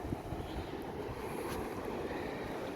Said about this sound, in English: It's pretty good waves coming in.